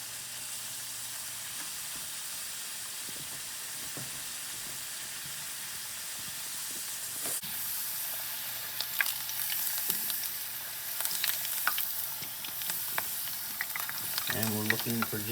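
Food frying in 350-degree oil, a steady broadband sizzle and hiss that swells louder partway through as pieces go in, with faint kitchen clatter and a brief voice near the end.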